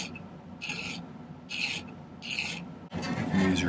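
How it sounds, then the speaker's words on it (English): Short strokes of a file rasp across the cut end of silver pattern wire, three distinct scraping passes followed by a longer, busier rub, close and fairly quiet. "Give it a little file."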